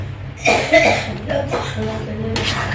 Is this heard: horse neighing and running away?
no